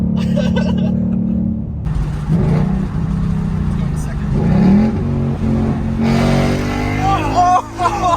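A Mustang 5.0 V8 with an H-pipe exhaust revs with a deep, rumbling throttle that rises and falls in loud swells, close by, while people talk and laugh over it.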